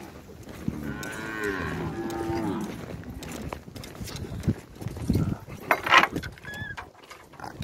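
A cow moos in a long, low call near the start, followed by hooves clattering and people's voices and shouts as cattle are sorted out of a corral.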